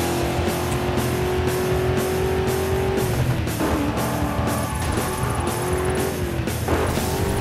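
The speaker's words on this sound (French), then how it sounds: "Je fais le dérapage et je prends par le mur." A car in the video game Burnout Paradise drifts and skids along a wall, with a loud continuous engine roar, tyre squeal and scraping bursts, no talking.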